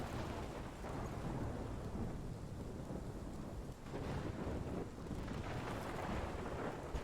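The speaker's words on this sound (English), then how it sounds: "There's the storm." A loud, steady thunderstorm from the Life is Strange Remastered video game, with heavy rain and wind roaring throughout and thunder rumbling beneath, dense and continuous with no speech.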